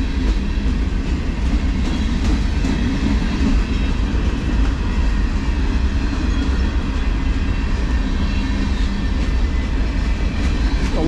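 A slow CSX manifest freight train rolls past close by, a loud, continuous rumble of wheels and cars on the rails with faint rhythmic clatter, steady throughout with no talking.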